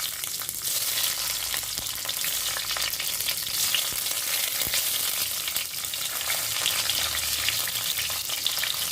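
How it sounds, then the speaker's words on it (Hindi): Brinjal fries in hot mustard oil with a dense, continuous, close-up sizzle and crackle, and a few faint stirring clicks, with no voices. "तो ऑयल गरम हो गया है, मैं यहाँ पर कम से करके और बैंगन डाल रही हूँ।"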